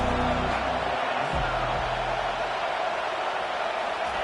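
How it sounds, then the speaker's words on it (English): Football stadium crowd during a college game between South Carolina and Oklahoma State, a dense, steady roar of cheering from a large distant crowd with a low rumble briefly underneath. "Big 3rd down as the crowd gets behind this defense."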